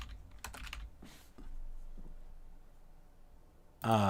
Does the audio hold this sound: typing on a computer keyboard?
yes